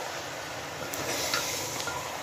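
Spices and salt are stirred into meat masala frying in a pan: a low, continuous sizzle with a few light scraping stirs, close and fairly quiet, with no voices.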